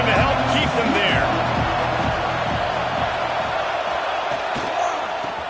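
Stadium crowd roaring steadily at a Notre Dame vs Navy football game, a broad sustained wash of cheering and noise with a commentator's voice talking over it.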